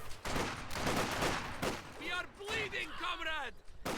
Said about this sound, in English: Volks in yellow here, shooting at the cons.